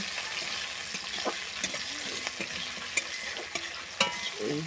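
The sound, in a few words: flat beans frying in a pan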